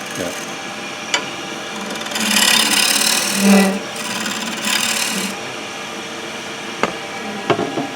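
A bowl gouge scraping a spinning wooden bowl on a lathe, giving close, rough rasping passes in a few bursts with a lathe hum and occasional knocks between them.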